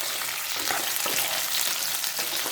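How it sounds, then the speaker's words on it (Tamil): Mango pieces, some with skin left on, sauté in hot oil for a sweet mango pachadi, giving a steady, dense sizzle and crackle that runs loud and close throughout without any talk. "இந்த எண்ணெயிலே ஒரு நிமிஷம் நல்லா வதக்கலாம்."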